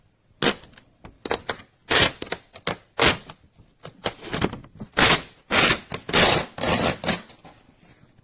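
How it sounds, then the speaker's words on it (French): Thermal paper printed on a Phomemo M834 A4 portable printer being torn off by hand, heard as a series of sharp, close ripping bursts with short pauses, uneven and somewhat struggling, with no talking. "Alors ça déchire pas super bien là, pour le coup."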